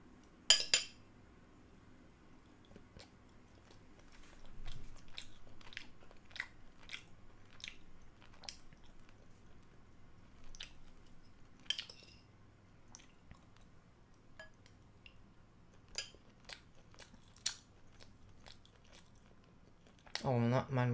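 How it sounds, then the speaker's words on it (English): A person eats a meal during a casual livestream, with soft biting, chewing and light cutlery clicks scattered through a quiet room, plus a sharper clatter near the start and end. "No, I'm eating my food too."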